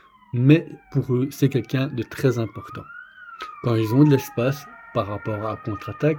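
A police-type siren wails outside during a press conference, its rising and falling tone running steadily beneath someone speaking French close to the microphone.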